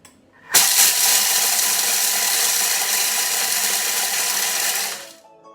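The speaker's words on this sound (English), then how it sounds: "what I'd like to do with these is just pulse them a little bit to just grind them down so they're not completely whole" A Thermomix grinds cereal at speed 5 in one continuous burst of about four and a half seconds, a loud close whirring roar that starts abruptly and winds down at the end.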